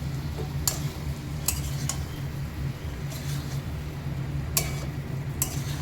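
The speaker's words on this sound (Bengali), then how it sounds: "দিয়ে এবার নাড়িয়ে চাড়িয়ে নিই" Chicken mixed with sattu is stirred in a pan under a low simmering hiss, with several sharp, irregular scrapes and clinks of the spoon against the metal.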